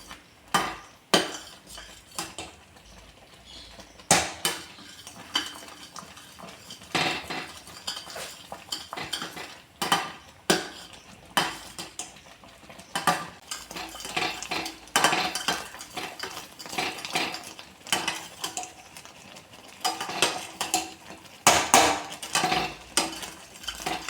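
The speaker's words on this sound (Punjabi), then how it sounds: "ਪੱਟੇ ਨਾਲ ਹਲਾਉਂਦੇ ਰਵਾਂਗੇ ਜਿੰਨਾ ਚਿਰ ਆਪਣਾ ਸੰਗਣਾ ਨਹੀਂ ਹੋ ਜਾਂਦਾ" A flat spatula scrapes and clinks against a pan while semolina and gram flour halwa with milk is stirred, steady irregular metallic scraping with sharp taps, close and fairly loud, with no talking.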